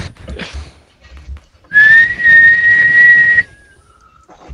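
A single clear, sustained whistle rings out for about two seconds in a Fortnite Prop Hunt match, preceded by brief muffled noises and followed by a faint, lower whistle tail.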